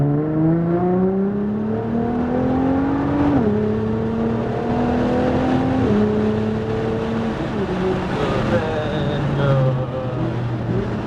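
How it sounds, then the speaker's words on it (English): A Nissan GT-R R35 engine revs hard on a race track and climbs in pitch, dropping sharply at each downshift, loud and close throughout with steady roaring. "you get to hear that car downshift"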